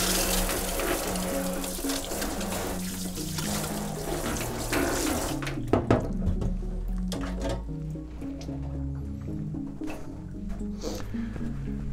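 Tap water runs steadily to wash out an etched printmaking plate in an artist's studio, a continuous splashing stream that gives way to intermittent drips, trickles and handling noises.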